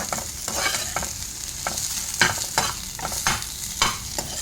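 Onion and coriander leaves fry in oil for chicken masala, a loud continuous sizzle broken by regular scraping stirs of a spatula in the pan, close up with no voices.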